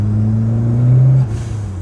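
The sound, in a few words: 1988 Ford Escort RS Turbo engine boosting, dump valve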